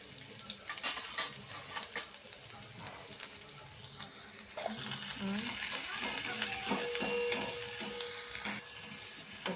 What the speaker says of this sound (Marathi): आता टाकून घेणार आहेत कांदे